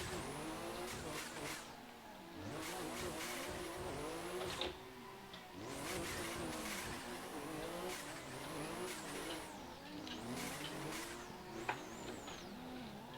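Race car in Assetto Corsa, an S14 with a turbo, revving through gear changes with engine pitch sweeping up and down and tires squealing through corners, loud and continuous with other cars nearby.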